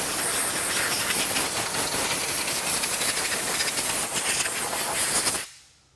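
Compressed air blasts water off a Porsche GT3 RS during a detail drying session, a loud, steady hiss that holds for over five seconds and then cuts off abruptly.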